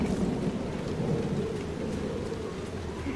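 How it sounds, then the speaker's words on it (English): Thunder rumbles in the video game Dragon Age: Inquisition, a low continuous roll under steady rain across the whole span, loud and close, with no talk. "Oh, lightning was close."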